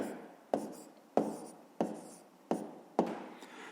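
Pen or chalk strokes writing numbers for a fifth-grade math exercise: six sharp, evenly spaced taps with short scratching tails, quiet and close with no talk.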